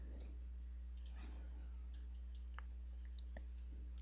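Faint, sparse mouse clicks while working in SolidWorks CAD software, a few short ticks scattered over a quiet background with a steady low electrical hum and no speech.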